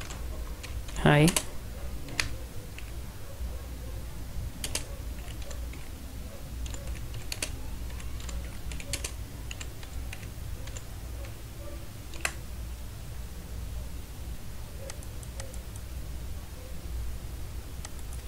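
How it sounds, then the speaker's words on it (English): Typing on a computer keyboard, scattered soft key taps and clicks under steady background hiss, with a brief sharp sweeping noise near the start and a short spoken greeting. "Let's go here and type something."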